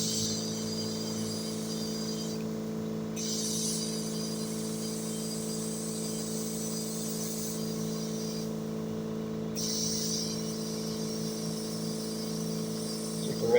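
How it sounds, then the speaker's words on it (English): An air compressor runs while a flat or leaking tire is filled, giving a steady, continuous mechanical drone that holds an even level throughout, with no talking. "Sorry for the compressor noise."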